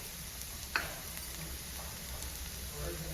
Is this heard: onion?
yes